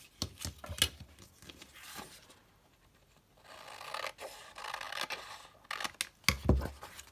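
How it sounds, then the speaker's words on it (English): Scissors trimming the top and edge of a large paper junk journal page, a series of crisp snipping cuts and rasping paper scrapes with brief pauses between strokes, close and quiet. "I'm going to trim this down a little bit from the top, and I'll trim down this edge"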